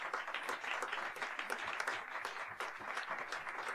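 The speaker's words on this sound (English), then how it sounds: "So please give them a round of applause," A concert audience at a live jazz octet performance at Berklee gives soft, distant applause, a dense and even wash of clapping throughout.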